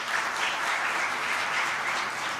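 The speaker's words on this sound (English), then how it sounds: "You deserve a big round of applause." Steady, dense applause from an audience at a national sustainability conference in a hotel hall, an even wash of many hands clapping without voices.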